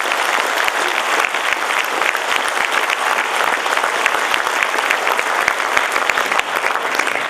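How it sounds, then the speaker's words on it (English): Applause from a large audience at a Malaysian Bar law conference for its Secretariat, loud, dense and sustained clapping that fills the room evenly from start to finish. "Ladies and gentlemen, a big round of applause to the Secretariat."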